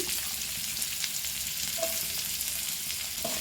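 Chopped onion dropped into hot oil with tempered cumin seeds, sizzling and frying steadily at close range, with a few faint stirring scrapes and no voices.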